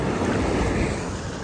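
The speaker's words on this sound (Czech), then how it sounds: "Vlny." Sea waves washing onto a beach in Cuba, a steady rushing surf sound with some wind buffeting the microphone, moderately loud and alone.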